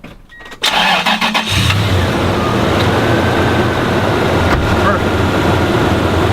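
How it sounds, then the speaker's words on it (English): A car engine cranks briefly, catches, and settles into a steady, loud idle close by, with a person speaking over the start. "we're going to start the engine"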